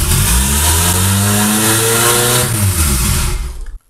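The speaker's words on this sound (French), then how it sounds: "Pourquoi elle est partie à 4000 tours là, YOLO?" A Fiat Seicento's 1.1-litre turbo engine starts for the first time and revs high toward 4000 rpm, a loud steady drone with a rising then falling pitch that cuts off abruptly at the end.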